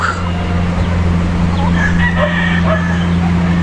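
Chickens crow and cluck faintly in the distance over a steady low hum, with a few short calls scattered throughout.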